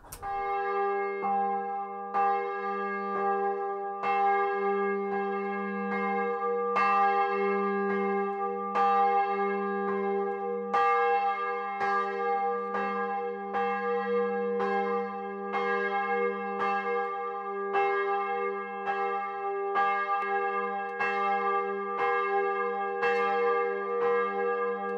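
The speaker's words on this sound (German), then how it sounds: "Die Feineinstellungen werden durchgeführt und auch die zweite Glocke erklingt." A newly cast church bell for a parish church rings after fine tuning, sounding a long series of steady, evenly spaced strikes, each with a bright metallic attack and a sustained humming tone, clear and close with no voices.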